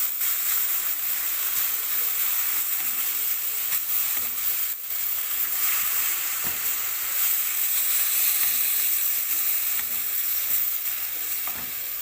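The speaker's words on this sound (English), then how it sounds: "Now added my enoki, and these will take about a minute or so to cook" Enoki mushrooms and bean sprouts frying in a pan for an Asian-style mixed mushroom dish, giving a steady, loud sizzle with stirring noises that runs unbroken throughout, with no talking.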